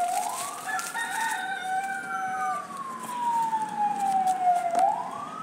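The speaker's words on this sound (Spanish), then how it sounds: "Ay, Dios mío, una ambulancia, señor." Passing ambulance siren, a single long wail sliding up and down across the clip, fairly loud and clear above outdoor background, with bird sounds mixed in.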